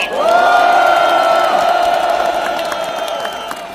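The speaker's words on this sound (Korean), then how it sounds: "다시 한번 큰 박수 부탁드립니다" A large crowd at a political emergency rally cheers, whoops and applauds together, a loud sustained roar with voices rising over it before slowly easing off.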